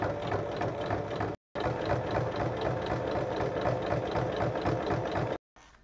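A domestic sewing machine joins fabric pieces for a small bag, whirring continuously and close up with a fast, rattling mechanical rhythm, broken once by a brief stop, then halting near the end.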